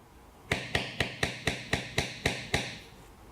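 A beveling tool is struck with a mallet along the edge of tooled leather, about nine sharp, evenly spaced knocks in quick succession, close and clear with nothing else around them.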